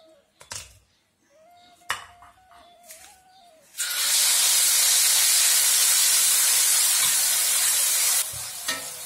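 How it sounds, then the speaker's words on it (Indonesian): Ground chili dropped into fresh hot oil for dendeng balado bursts into a loud, steady sizzle lasting several seconds, after a few clanks of a pan and utensils. The sizzle then subsides near the end. "sekarang kita goreng cabai gilingnya biar cantik ininya merahnya."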